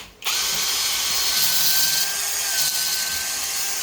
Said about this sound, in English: Helps if you tighten the drill up.